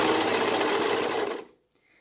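A serger stitches a neckband onto knit fabric with a steady, loud, rapid mechanical whir that runs close up for about a second and a half and then stops abruptly, leaving near silence.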